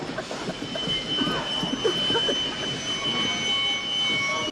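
A train arriving from the Płaszów concentration camp rumbles along with clattering and squealing wheels, a steady mechanical roar throughout, moderately loud and nearby.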